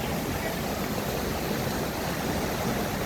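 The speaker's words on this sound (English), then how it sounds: "the sound of the water is so calming." Flowing water at Golden Waterfall in Taiwan, a steady broadband rush of cascading water filling the scene, even and continuous with no voices.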